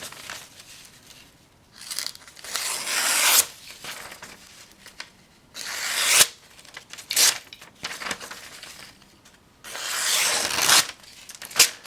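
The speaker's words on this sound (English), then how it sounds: "listen to this blade going through phone book paper" A Strider SMF knife blade slices through phone book paper in repeated bursts, each a rough tearing, crinkling rasp, separated by short pauses of quiet handling.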